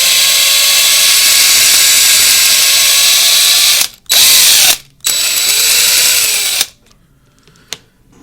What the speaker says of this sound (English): So we'll drill out the rivets and open it up,